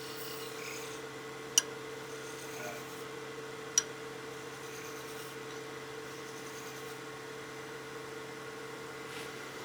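A wood lathe spins a honeycomb blank with a faint, steady motor hum and soft rasping, broken by two brief sharp ticks; no one speaks.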